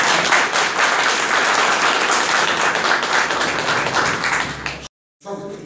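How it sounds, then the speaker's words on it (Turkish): A crowd at an outdoor political rally in Kırkağaç, Turkey, applauding loudly with dense, sustained clapping that cuts off abruptly, followed by a moment of silence and a short burst of faint sound. "Ben hep beraber onları bir alkışlamanızı istiyorum."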